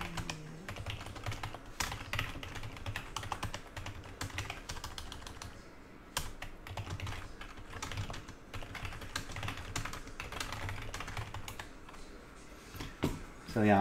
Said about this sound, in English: actually I'll type it in the chat